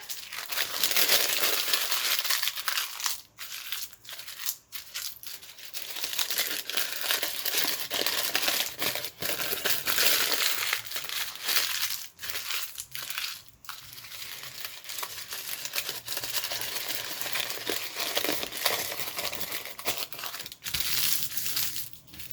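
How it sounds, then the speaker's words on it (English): Plastic or paper bag crinkled and crumpled by hand during craft journal-making, a close, continuous crackling rustle in bursts with brief pauses, no talk. "I think I might also crinkle the bag."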